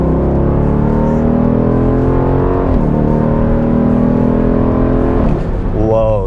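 A 2026 Dodge Durango R/T 392 V8 revs loudly and close up, its deep engine note climbing and falling through several rises, with a sharp blip near the end.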